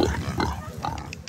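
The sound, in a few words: wild pigs of Koh Samui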